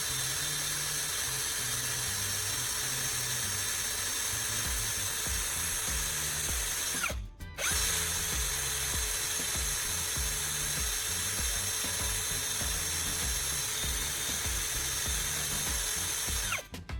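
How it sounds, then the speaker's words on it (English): A power drill spins a carbon rod against sandpaper, producing a steady high-pitched motor whine with grinding hiss that runs continuously, broken by one brief stop near the middle before resuming. "I'll chuck it into my drill and spin it against some sandpaper."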